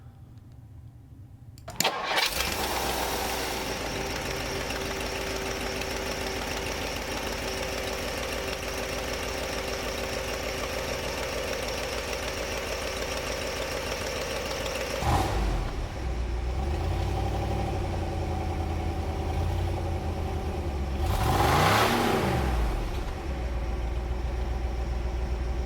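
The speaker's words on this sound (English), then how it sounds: "This is the 352 V8 FE motor from Ford, and it runs great." A 1960 Ford Thunderbird with its 352 V8 FE engine cranks and catches, then settles into a steady, loud idle that runs on, broken by two brief revs or surges partway through, with no talk.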